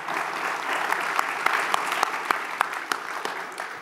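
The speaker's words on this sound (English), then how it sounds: "Let's give them a round of applause." An audience at a mayoral town hall meeting applauds for a few seconds. Dense clapping with louder individual claps rising out of it carries on steadily, with no speech over it.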